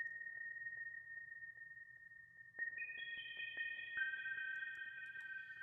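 A pure, high-octave sine wave synthesizer tone holds steady, then shifts upward into a few stacked sustained notes, clean and bell-like with no other sounds.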